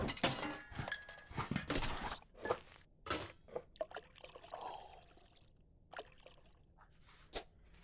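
Liquid pouring through a strainer in the cooking game Venba, heard as a series of splashy pours and light clinks in short bursts, moderately loud and close.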